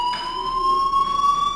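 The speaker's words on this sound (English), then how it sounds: "do you hear that fire alarm?" A fire alarm in the video game Life is Strange rings as a steady, unbroken electronic tone that holds loud and constant throughout.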